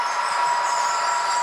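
Athearn Genesis SD70ACU model train passing with its rear DPU locomotive, a steady whirring motor hum and faint rolling rattle of Walthers and Rapido container cars on track, constant and fairly close.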